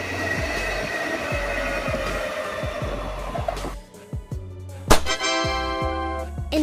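An intercity passenger train rolls past with a steady rumble and rhythmic clacks of wheels over rail joints, then thins out into quieter, ringing metallic tones as it moves away.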